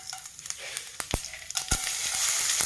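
Oil sizzling in a hot pan to temper dal, with steady hissing crackle punctuated by sharp pops and spatters.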